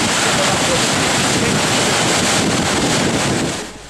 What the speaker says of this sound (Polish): A oto w całej okazałości 40-metrowy Monto Delanowia, bo tak w oryginale brzmi nazwa wodospadu.